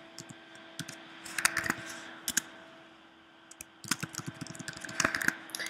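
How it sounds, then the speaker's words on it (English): Computer keyboard keys typed in short bursts of close, crisp clicks with pauses between runs, entering a password, with no talking. "I can type in my current password, and then I can type my new one."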